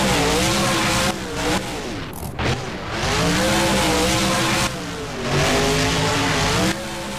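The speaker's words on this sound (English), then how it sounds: "Flips the truck around and sticks the landing." Monster truck engine in the BeamNG driving game roaring and revving loudly and continuously, with pitch swings and brief dips as the truck flips off ramps and lands, plus some tire noise.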